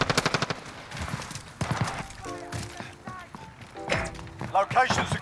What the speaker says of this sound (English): Who is shooting at us?